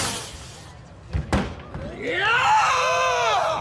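A male American Ninja Warrior contestant screams loudly and continuously for about a second and a half while reaching the platform, following a couple of dull thuds, over a noisy studio background.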